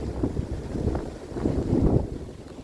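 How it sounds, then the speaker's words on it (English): Blizzard wind gusting beside a river in Ohio on a below-zero day, a steady rough roar of buffeting air that swells and eases in waves, with no voices. "now we're in the middle of a blizzard"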